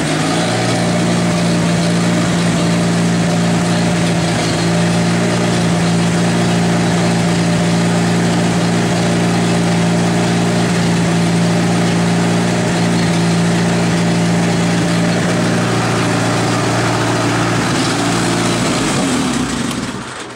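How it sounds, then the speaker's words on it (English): An Allis Chalmers C tractor engine runs loud and steady close by, holding a strong low drone as it is raised to higher RPM, with a throttled-up hum continuing throughout and dropping off at the end. "Raise up the RPM here."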